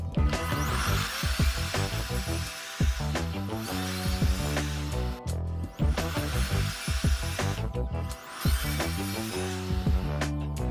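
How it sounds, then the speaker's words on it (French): A saw trims the cut ends of wooden photo frame pieces, running with a steady whine that dips briefly between several passes, loud and close with no talking. "on va s'occuper de la scie qu'il y a juste derrière pour affiner les coupes"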